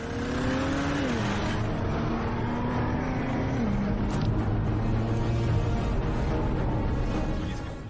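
A BMW X4 M40i accelerating hard through its gears, the engine note climbing steadily, dropping briefly at each shift and rising again, loud and continuous from inside the car.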